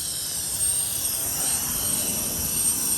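An electric brushless air duster rated at 180,000 RPM, set to first gear, runs with a steady, close, high-pitched whine and airy rush, holding constant throughout with no speech.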